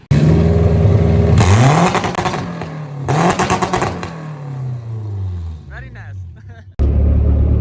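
A car engine roars loudly and revs with rising pitch sweeps as a group sets off in light rain toward an auto show, the engine note dropping and rising again several times.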